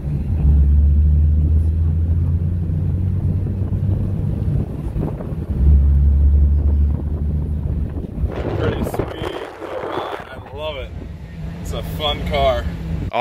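A Saturn Sky convertible drives along with a low engine drone and heavy wind buffeting the microphone, and someone talks over the noise in the second half.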